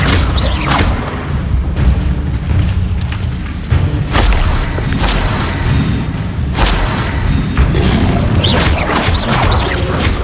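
Spells are cast in combat in Hogwarts Legacy, including the Incendio fire spell, a dense loud mix of whooshing bursts, heavy booms and thuds recurring every second or two over a continuous rumbling background.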